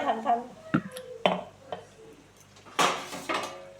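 Leafy bottle gourd greens are tipped onto a metal plate, giving a handful of sharp clinks and scrapes of metal spaced across a few seconds, with a voice speaking between them.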